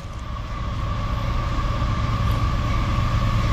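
A westbound CSX intermodal freight train rumbles past nearby, with a continuous low roar of wheels and cars and a faint steady tone above it.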